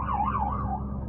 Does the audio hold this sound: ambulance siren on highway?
yes